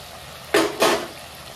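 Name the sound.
fish pieces added to cooked masala, doi katla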